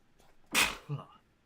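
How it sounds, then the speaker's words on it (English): A single sharp sneeze bursts out close by, followed by a short, soft voiced sound, then quiet. "I'm gonna sneeze here"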